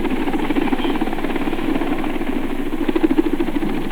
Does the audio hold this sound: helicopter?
yes